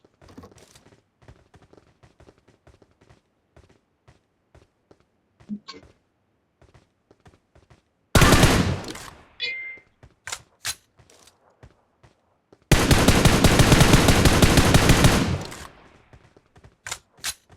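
Bursts of machine gun fire in a video game, a short rapid volley followed by a longer sustained stream of shots, loud and close, with quieter clicks and game sounds in between.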